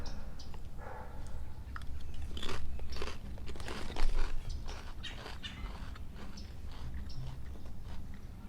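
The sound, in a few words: crunchy snack being chewed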